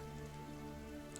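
Rain sound effect playing during a tabletop role-play session, a soft, steady wash of falling rain under a faint hum, quiet and unchanging.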